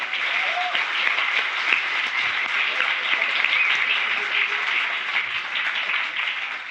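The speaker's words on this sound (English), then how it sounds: "Give yourselves a round of applause." Loud, sustained applause from a conference audience filling a large hall, dense steady clapping with crowd noise throughout.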